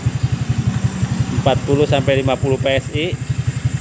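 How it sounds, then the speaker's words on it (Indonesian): A Honda Vario 125 scooter engine idles during an injector cleaning service, its rapid, even putter running steadily throughout while someone talks over it in the middle of the clip. "Ini kita tunggu sampai mesin mati ya."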